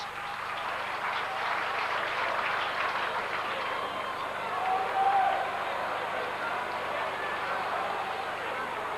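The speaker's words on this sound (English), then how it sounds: "Applause as Davy Jones is back in the line, fit and well." Crowd applause rises from the stands at a 1997 rugby league World Club Championship match between Oldham and North Queensland, a steady distant wash of clapping running under a commentator's voice.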